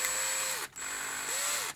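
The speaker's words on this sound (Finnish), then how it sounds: "ne täytyy porata ulos" A power drill bores out snapped 10 mm wooden glue dowels, whining loudly at close range in two sustained runs separated by a short pause, with pitch dipping as the bit bites.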